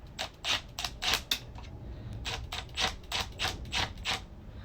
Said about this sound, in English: we're gonna go ahead and start running some of these bolts in here